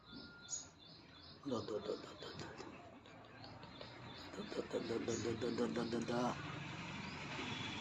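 A bird held in a person's hand chirps in short, repeated bursts close by at a Kamakshi Amman temple in the morning, mixed with voices talking and some background rustling.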